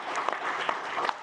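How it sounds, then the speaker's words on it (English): Conference audience at a global banking and finance event gives a short round of applause, steady dense clapping from a room of people with a few sharper claps standing out. "we'll do one last round of applause"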